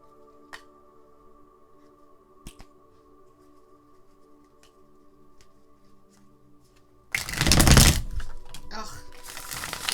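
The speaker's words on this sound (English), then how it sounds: "Just gonna shuffle the deck here." A deck of tarot cards is shuffled, heard as a short, loud riffling burst near the end after a long quiet stretch with only a faint hum and a few light taps.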